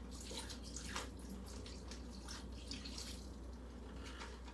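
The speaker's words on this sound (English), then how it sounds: "I'm gonna pour that all right in there." Liquid pours steadily into a cooking pot in a home kitchen, a continuous soft rush and splash that stays even and fairly quiet throughout, with no talking.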